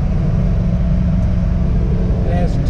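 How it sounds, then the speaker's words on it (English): A 1966 Chevy II Nova with a V8 and a 350 automatic transmission rumbles loud and steady from up close, its deep throaty drone continuous throughout. "So it's got that great American V8 sound."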